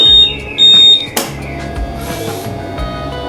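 Honda PCX 160 scooter switched on, two loud high electronic beeps followed by a sharp click, then a low quiet hum from the powered-up unit.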